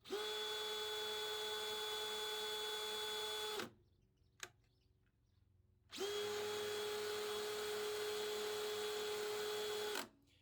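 Dewalt DCD 790 18V compact cordless drill spinning freely for a chuck accuracy test, with two sustained high motor whines that each start and stop cleanly around a short pause, close and steady.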